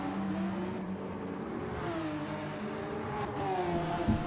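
GT3 race cars lapping the Nürburgring Nordschleife, with engines droning and whining in overlapping tones as several cars accelerate in the distance, a steady layered roar.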